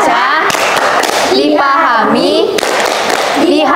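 Children at a church gathering perform a rhythmic scripture clapping chant, sharp hand claps landing between sung and spoken lines, loud and close, with voices dominating.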